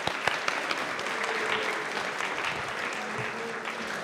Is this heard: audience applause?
yes